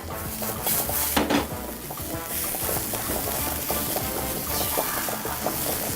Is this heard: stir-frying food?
yes